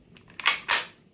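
A Ruger BX trigger group fitted in a T/C T/CR22 rifle is dry-fired: soft faint clicks of cocking and reset, then two sharp mechanical snaps close together, near and isolated with no talk.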